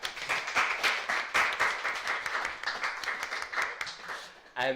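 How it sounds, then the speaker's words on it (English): Audience applause for election candidates at university leadership hustings, a steady room-filling patter of many hands that fades out near the end. "Can we have a round of applause, please?"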